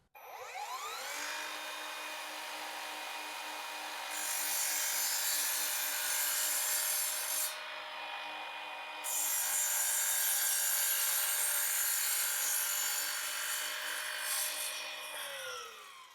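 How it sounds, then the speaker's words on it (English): A cordless Evolution miter saw, 2x20V model R255SMS-DB-Li, cutting wood with a 60-tooth fine woodworking blade: a steady loud whine spools up, holds through the cut with a brief dip midway, then winds down at the end. "first cut, Evolution fine woodworking blade"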